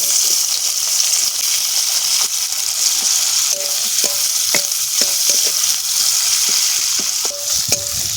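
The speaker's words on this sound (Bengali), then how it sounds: "মাছ ভাজা তেলে দিয়ে দেবো কেটে রাখা পেঁয়াজ" Chopped onions sizzling and crackling in hot oil left from frying fish, with a steady frying hiss and occasional sharp clicks of stirring against the pan.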